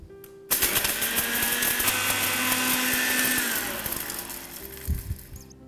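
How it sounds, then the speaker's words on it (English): A blender grinds roasted masala spices into a fine powder, a loud, steady whirring roar that starts abruptly after a short pause and runs continuously, easing slightly near the end. "Now this goes into the blending jar. Now let's blend them."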